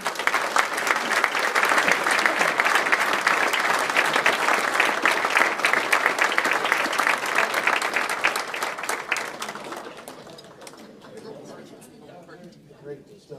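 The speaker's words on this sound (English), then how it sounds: "Give me one more round of applause for John Enterbo." A banquet crowd at a baseball team's first pitch dinner claps loudly and densely, with scattered cheering and chatter mixed in, before the applause thins out and fades near the end.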